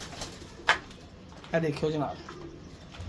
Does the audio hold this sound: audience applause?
no